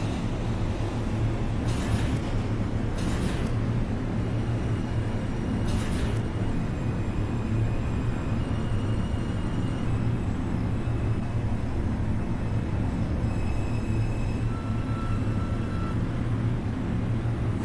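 An NYC Subway R142 train in the OpenBVE simulator runs along the track with a steady low rumble and whine, punctuated by a few brief bursts of noise early on.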